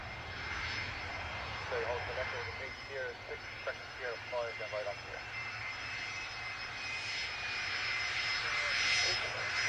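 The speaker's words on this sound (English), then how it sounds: "Another Mexican plane." A Mexican plane's engines roar steadily at Dublin Airport, a broad continuous rumble that swells toward the end, while people talk faintly over the noise.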